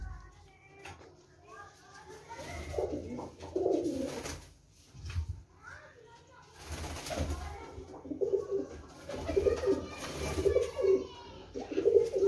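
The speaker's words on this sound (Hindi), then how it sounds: "दुबई वाले कबूतर के, टैडी कबूतर के बच्चे" Teddy pigeon chicks coo in soft, repeated throaty bursts, close by, with rustling and faint background noise between calls.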